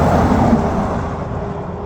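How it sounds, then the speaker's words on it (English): Steady, loud road traffic noise with cars and trucks rolling past nearby, a continuous broadband rumble that slowly fades slightly, with no talking. "All you hear is the sound of the road, trucks coming by,"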